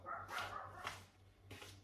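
A dog barks a few times in a home kitchen, sharp close yaps over a steady low background hum.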